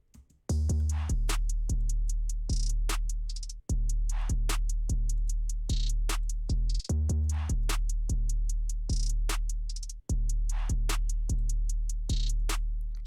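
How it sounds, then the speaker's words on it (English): Trap beat with a new 808 bass pattern: deep, sustained 808 booms slide and repeat under crisp snares and quick hi-hat rolls, a loud, steady loop with short gaps at phrase turns and no voices. "Next thing I did was I put in a new 808 pattern."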